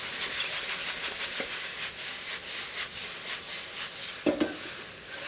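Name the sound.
noodles sizzling in a wok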